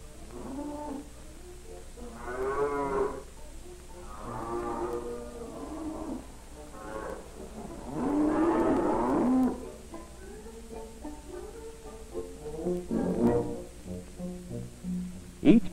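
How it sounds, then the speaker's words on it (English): Several cows moo at intervals on a farm as the herd walks to the barn for milking, the low drawn-out calls rising and falling over a steady background with a faint voice. "Here come the cows. It's milking time."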